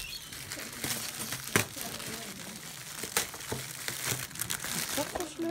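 Crinkling of a piece of red paper printed with silver stars, with intermittent rustles and crackles, close by and fairly faint, while voices speak over it.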